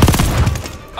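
Burst of gunfire from soldiers in Call of Duty: Vanguard, loud dense shots crowding the first half second before tailing off into a ringing decay.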